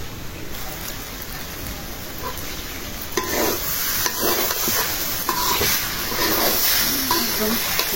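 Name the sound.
water poured into frying rice and lentils for goat-meat khichuri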